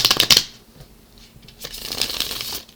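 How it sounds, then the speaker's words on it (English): A tarot deck being shuffled: a quick burst of riffling card flicks at the start, a quiet pause, then a longer, softer run of shuffling, close and with no talking. "There's also just a few more shuffles here left to go."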